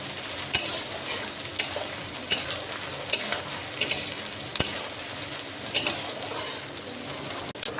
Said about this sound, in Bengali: টমেটো কুচি এবার দিয়ে দিলাম টমেটো কুচি এবার একটু নাড়িয়ে নেব